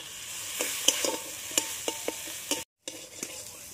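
Cumin and ginger spice paste with chili powder and salt frying and being stirred in a pan for a fish curry, a steady sizzle broken by repeated sharp scraping clinks of the spoon, with a brief dropout near the end.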